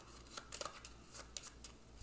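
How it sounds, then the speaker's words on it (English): A deck of game cards being shuffled by hand, giving several soft, quick riffling bursts close by at a low level. "So we shuffle these up,"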